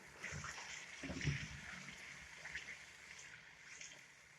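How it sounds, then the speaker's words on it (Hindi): Boiled lentils poured along with their cooking water into fried masala for dhaba-style daal chana, a brief watery splash and pour near 1 second settling into soft sizzling and trickling. "इस स्टेज पे मैं इसके अंदर दाल ऐड कर दूंगी। बॉयल करते हुए दाल का पानी मैंने नहीं था निकाला, हम ये भी साथ ही यूज करेंगे"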